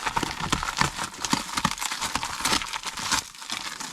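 Plastic pipe below a bathroom fan is cut in an attic space, giving a close, rapid series of crunching, crinkling snips and scrapes.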